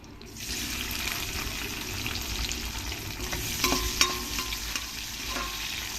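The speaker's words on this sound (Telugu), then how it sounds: "ఈ ఉల్లిపాయ ముక్కలు కొంచెం లైట్గా వేయించుకొని ఉల్లిపాయ వేగాయండి." Onion pieces fry with crushed garlic and curry leaves in a pan for a tomato curry, giving a loud, steady close sizzle with stirring scrapes and a few sharper clinks near the end, and no voices.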